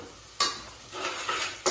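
Food stirs and sizzles in a home kitchen pan, with scraping strokes at a steady rhythm over a soft background fry and a few sharper clatters of the spoon, close by and moderately loud.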